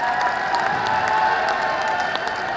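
Audience applause and cheering at a college festival fill the space in a steady, dense wash of clapping, with a few shouts from the crowd and no speech over it.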